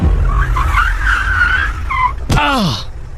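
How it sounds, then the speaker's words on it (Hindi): Hard car braking with a sharp tire skid, a brief squeal sweeping downward near the end of a horror story sound effect, heard over a steady low rumble and a voice narrating. "तभी गाड़ी में जोर का ब्रेक लगा"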